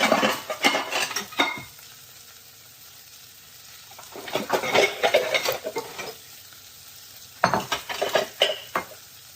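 Sausages browning in a frying pan with sizzling and stirring bursts, utensils scraping and clinking against the pan in three busy spells separated by quieter sizzle, close and fairly loud, no talk.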